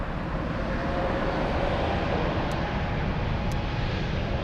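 Lufthansa airliner beginning its takeoff roll at Frankfurt airport, a steady broadband roar heard from a distance with no voices.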